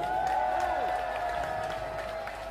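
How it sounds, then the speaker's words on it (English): A crowd at a rock concert at Volta Club in Moscow applauds and cheers, a dense continuous roar of clapping and shouting under sustained high guitar feedback tones. "Give yourself some applause,"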